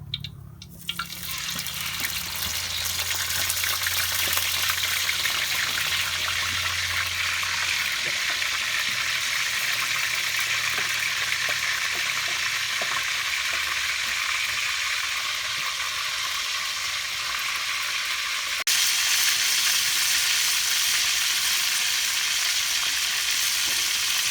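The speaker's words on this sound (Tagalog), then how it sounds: "Ito na, bukal na yung ating mantika. Lagay natin to kung okay na ba." Chicken frying in hot boiling cooking oil: a loud, steady, close sizzle with a continuous crackling hiss throughout, no talking.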